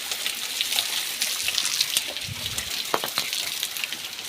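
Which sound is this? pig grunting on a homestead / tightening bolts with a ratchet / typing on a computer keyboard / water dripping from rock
water dripping from rock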